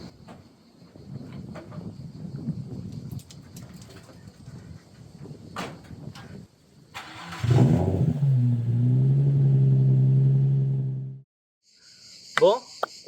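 A Nissan 350Z is heard with a car door thud, then the engine starting and idling loudly with a steady rumble for several seconds before cutting off, after quieter movement and handling noises.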